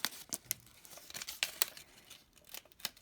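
Strips of tape are torn and pressed down onto a paper wall piece for a vertical loop, in quiet, irregular bursts of sharp ripping and crinkling with short pauses between them, close by.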